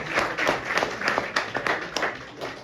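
Audience applause at a monthly business meeting follow-up session, a burst of clapping with scattered individual claps, fairly close and steady across the whole span.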